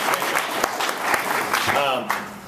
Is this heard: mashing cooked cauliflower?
no